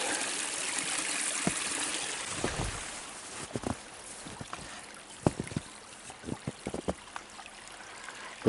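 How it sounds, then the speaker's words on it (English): A small runoff creek fed by melted wet spring snow trickles and gurgles quietly and continuously outdoors, with scattered soft clicks and knocks over the steady water flow and no voices. "Little runoff creek."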